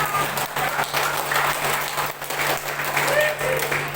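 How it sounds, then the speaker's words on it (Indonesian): Supporters at a communal iftar gathering applaud, a moderate, continuous patter of clapping with a low steady hum underneath and a voice briefly heard over it. "Yang mendukung Prabowo Gibran tepuk tangan dong"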